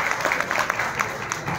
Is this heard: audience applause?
yes